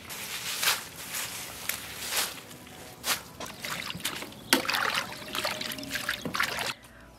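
Dandelion greens are swished and rinsed in water, giving close splashing, trickling and sloshing in irregular bursts, moderately loud with no voices.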